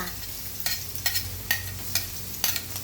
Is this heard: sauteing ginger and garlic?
yes